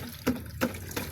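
Water running strongly from a tap, a steady rushing flow with a few brief splashy surges, close and moderately loud with no talk.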